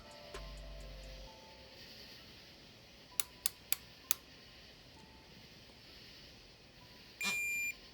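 A torque wrench tightens a cam cap bolt to 12 Nm on an Audi A4 1.9T AEB cylinder head, giving four sharp, quiet clicks in quick succession against a low, steady background.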